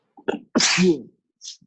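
A person sneezes loudly and close, a sharp inhaled catch followed by one explosive burst, then a small trailing sound.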